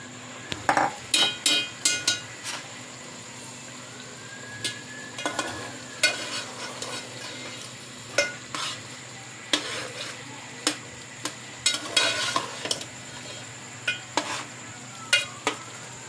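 Mashed potato bharta (aloo bharta) is stirred through spices in a frying pan, with steady sizzling beneath and repeated sharp scraping strokes of a spoon against the pan at an uneven rhythm.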